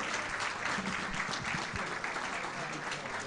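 An audience at a fund launch event gives a dense round of applause, with continuous clapping at a moderate level throughout.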